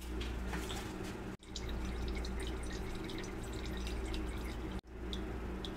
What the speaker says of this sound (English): the cannabis is just draining through a filter into a bowl for future use